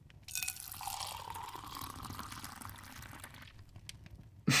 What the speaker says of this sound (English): Finally, we add the rest of the hot water to the mix.